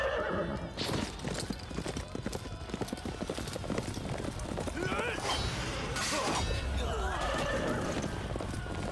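A horse gallops with rapid, continuous hoofbeats and lets out a neigh in the Dynasty Warriors 9 video game, heard amid battle noise and game sound effects, with voices present in the mix.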